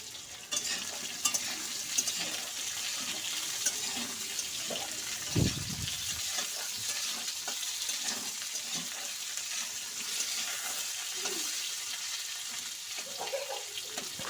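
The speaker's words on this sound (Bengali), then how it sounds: "আলুগুলোকে দিয়ে দিচ্ছি, দিয়ে এবার পটলগুলোকে আলুর সঙ্গে ভালো করে ভেজে নেব।" Potatoes and pointed gourd frying in a pan give a soft, steady sizzle with occasional stirring scrapes and clinks, fairly quiet and close, with no talking.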